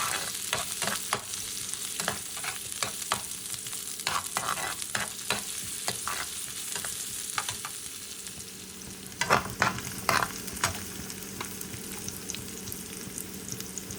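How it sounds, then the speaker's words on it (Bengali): Garlic fries in a pan with a constant low sizzle, broken by repeated sharp clicks and scrapes of a spatula stirring. A louder cluster of scraping comes near the end. "এই তো আমার রসুনটা ভাজা ভাজা হয়ে আসছে"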